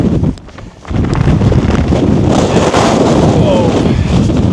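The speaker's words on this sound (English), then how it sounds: "there's one of those gusts. That type of wind is going to batter the tent." A strong mountain wind gust on the Old Man of Coniston slams into the microphone, a loud sustained roar that briefly drops before surging back and holding steady near the tent.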